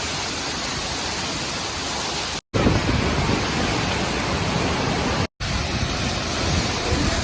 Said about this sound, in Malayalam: എജ്ജാതി വരവാണ് വെള്ളം വന്നുകൊണ്ടിരിക്കുന്നത്